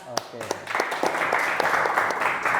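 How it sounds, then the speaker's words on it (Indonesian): Classroom students applaud a presenting group, a few sharp early claps swelling into fuller, continuous clapping that carries on to the end, with a voice briefly heard near the start. "kita kasih tepuk tangan untuk Ihsan dan kelompoknya ya."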